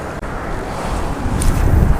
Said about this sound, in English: the wind is blowing directly down here